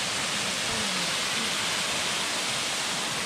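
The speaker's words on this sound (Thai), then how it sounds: "ตอนนี้เราก็อยู่ที่น้ำตกอะไรนะ" Water from the newly found Pen Phob Mai waterfall on Phu Kradueng pours in a dense, steady roar. The broad, even rush is nearby and fills the whole moment, with no talk over it.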